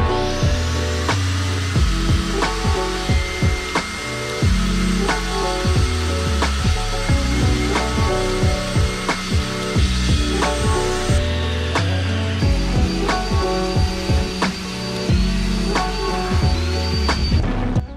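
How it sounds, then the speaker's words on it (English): A table saw cuts through a wooden bass drum shell, its steady buzzing whine running close and loud for the whole stretch, with a brief shift in tone partway through, and no talking. "Bust out the old table saw here"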